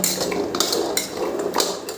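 Fried jackfruit seeds are tipped from a pan onto a metal plate in a home kitchen, producing several sharp, close metallic clatters and scrapes over a brief rattling spill.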